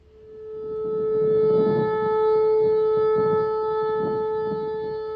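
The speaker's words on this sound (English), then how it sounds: "it's likely just a malfunctioning tornado siren," A malfunctioning tornado siren in poor weather holds a sustained, slightly wavering tone, steady and fairly loud throughout.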